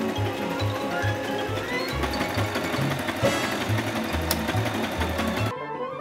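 A sewing machine running a zigzag overlock stitch along a seam on chinos, a loud, steady rhythmic whirring and thumping close up that stops abruptly near the end.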